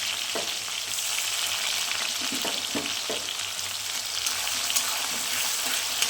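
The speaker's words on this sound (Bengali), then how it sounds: "এখন একটু ব্রাউনি করে ভেজে নিই পেঁয়াজটাকে" Chopped onions fry in hot oil, making a loud, dense, continuous sizzle close by, with a few faint stirring scrapes underneath and no talking.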